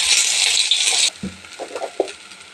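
Green pea paste sizzles in hot white oil in a pan, a broad loud frying hiss for about a second, then quieter scraping and stirring taps as the paste is worked.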